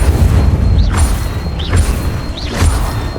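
Incendio fire spells cast repeatedly in the Hogwarts Legacy video game: three loud bursts with whooshing flares, about one every 0.8 seconds, over a steady low rumble.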